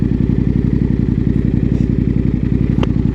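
A Yamaha Tenere 700 motorcycle engine idles loud and close with a steady, rapid thumping pulse that never changes, with no talking over it.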